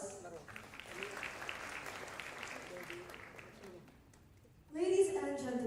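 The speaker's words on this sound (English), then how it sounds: "Let's give it another round of applause." A quiet audience applauds at the opening ceremony of a university SDG summit in a large hall, a soft continuous patter of clapping that stops briefly and is then followed by louder, closer sound.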